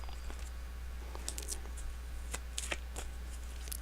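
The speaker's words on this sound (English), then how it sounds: "Let's flip some more cards." Tarot cards are shuffled and flipped at close range. Soft, quick papery riffles and light taps come in scattered bursts over a faint, low background hum.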